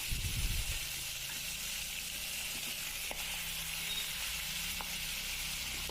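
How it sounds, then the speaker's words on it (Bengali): Fish pieces frying in hot oil, a steady close sizzle that runs the whole time with a few faint clicks and stirring scrapes, louder bubbling at the very start. "এগুলো এখন ফ্রাই করে নিই পিসগুলা"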